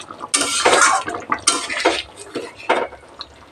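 A utensil stirs spiced potato curry, aloor dum with Maggi masala, in a pan, making a few separate bursts of scraping and clinking metal against the pan, close and fairly clear.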